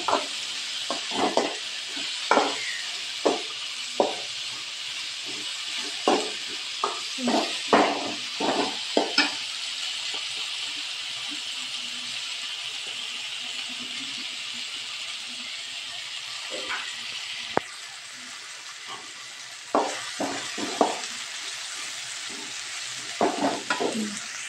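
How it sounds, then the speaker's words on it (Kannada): Green beans frying in oil for a village-style beans palya, a continuous loud hissing sizzle with frequent rhythmic spoon scrapes and clanks against the pan, briefly quieter midway. "ಬೀನ್ಸ್ ಹಾಕಿದ್ಮೇಲೆ ಅದು ಎಣ್ಣೆಯಲ್ಲಿ ಫ್ರೈ ಆಗಬೇಕು ಬೀನ್ಸು"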